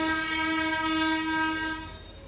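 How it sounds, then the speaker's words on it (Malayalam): A slow two-coach train passes close by, a steady loud hum and engine drone holding strong tonal lines for about two seconds, then fading as it moves off. "ട്രെയിൻ പോകുന്നത്"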